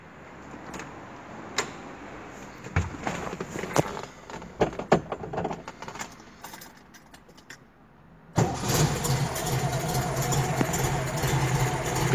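Clicks and rattles, then the small engine of a 1972 Volkswagen Variant with a 35 mm Solex carburetor starts cold and settles into a steady, close idle that runs to the end.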